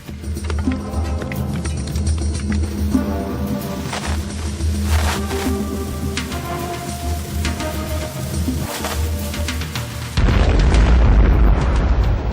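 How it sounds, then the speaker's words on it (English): A powerful mine blast beneath a fortress's foundations during an Ottoman siege rumbles as a loud, continuous roar with scattered crackling bursts, ending in a heavy wash of low-frequency thunder. "The resulting explosion signaled a furious 6-hour Ottoman assault."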